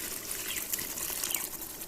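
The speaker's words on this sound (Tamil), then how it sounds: "நான் இருக்கிற புளியப்பெல்லாம் ஊற்றி விட்டுறேன்." Tamarind water pours steadily into a curry in a continuous gushing stream, close by, with no voices.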